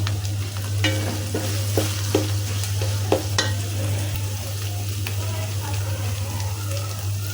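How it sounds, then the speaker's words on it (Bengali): Dried fish (shutki) fries in a pan, a continuous close sizzle broken by a series of sharp scrapes and clicks from stirring, with a steady low hum running beneath. "এখন আমি বেশ খানিকটা সময় ভেজে নিব"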